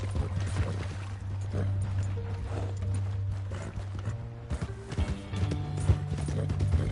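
Horse hooves clip-clop steadily in Red Dead Redemption 2, a close even trotting rhythm over a continuous bed of game ambience and low tones, with faint background sound throughout.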